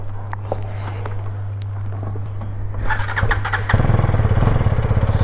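A motorcycle starts with a brief crank and catches, then its engine idles and revs up loud and close as it pulls away; faint clicks and footsteps come before it.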